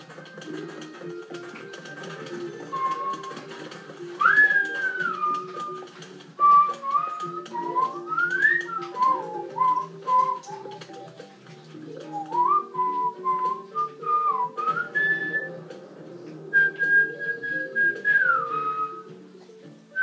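A whistled melody from Plants vs. Zombies game music, with sliding, wavering notes over a soft background tune, phrases rising and falling at a moderate pace.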